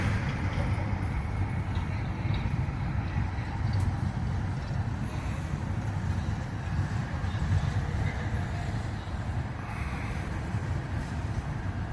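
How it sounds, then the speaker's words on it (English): Empty coal train passing by on its way back to the yard, a continuous low rumbling roar with faint clattering, steady and moderately loud for the whole stretch, no talk. "I think it's an empty coal train headed back up to the yard."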